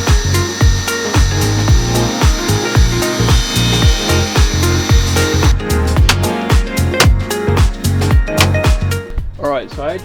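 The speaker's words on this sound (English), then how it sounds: "So let's get the tape measure out and let's get them cut." Wooden roof strips for a camper van build are cut in a fast, steady run of loud, close sawing strokes, with the rhythm turning busier and more irregular partway through.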